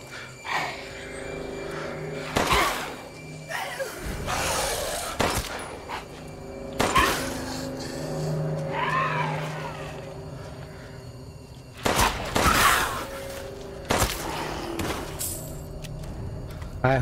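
Gunfire in Resident Evil Village: a handful of sharp, loud shots spaced several seconds apart, each ringing out over a low ambient game backdrop, with faint growls and a voice talking now and then.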